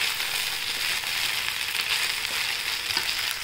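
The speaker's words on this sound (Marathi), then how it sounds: "आता आपण याच्यामध्ये साबुदाणा आणि शेंगदाण्याचं कूट टाकूया।" Sago pearls and crushed peanut powder frying with cooked potatoes in a pan, giving a steady, dense sizzle close by with faint stirring scrapes and no talk.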